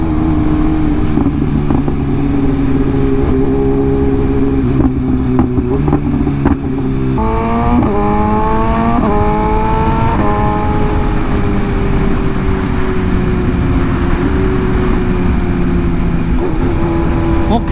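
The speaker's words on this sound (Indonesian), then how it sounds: "Dan suaranya juga masih inline 4 silinder ya kan" BMW S1000RR M Package sport motorcycle with an inline-four engine, heard while riding: a loud, steady engine drone with rising and falling revs, including a clear climb through the gears in the middle, with a voice talking over it.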